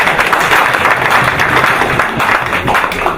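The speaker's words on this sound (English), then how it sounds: "Let us give a hand clap for..." An audience at a police regional commander's farewell party claps loudly, with dense, sustained applause filling the whole stretch without a break.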